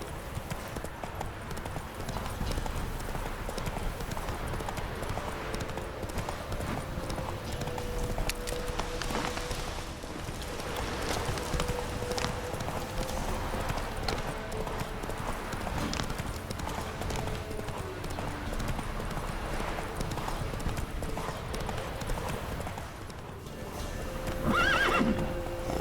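A horse galloping in The Witcher 3 game, with steady rapid hoofbeats running continuously under a wash of game ambience, plus an occasional whinny near the end.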